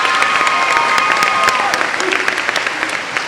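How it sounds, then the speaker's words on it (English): An audience applauds a school orchestra and band at a high school event, a dense burst of clapping from a sizable crowd that stays loud and then thins slightly toward the end. "Let's give them another round of applause,"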